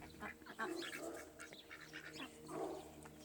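A duck hisses and calls close by, a few raspy bursts of breathy noise mixed with short honking quacks in a farmyard pen where chickens are also kept.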